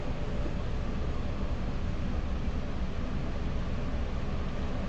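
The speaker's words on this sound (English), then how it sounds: "I apologize for the fan noise in the back" A big fan runs steadily, giving a constant, even broadband whoosh with no changes in level, close and moderately loud, with no talking.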